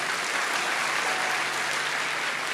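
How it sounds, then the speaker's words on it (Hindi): Steady applause from a crowd honoring three Muslim pilgrims, dense continuous clapping that holds evenly throughout with no voices. "इन तीनों मुस्लिम भाइयों के लिए जोरदार ताली।"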